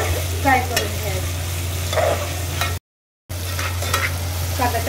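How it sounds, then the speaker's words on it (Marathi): Onion and tomato frying in a pan for dal tadka make a loud, continuous sizzle with stirring scrapes, broken once by a brief silent gap before the frying resumes. "हलकंच कांदा टमाटर फ्राय करून घ्यायचं।"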